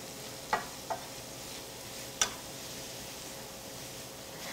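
Zucchini cooking in a pan with olive oil and garlic gives a quiet, continuous sizzle, with a few small ticks and taps from stirring.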